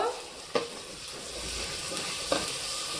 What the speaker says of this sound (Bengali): আদা বাটা দিয়ে দিলাম আবার একটু ভেজে নেব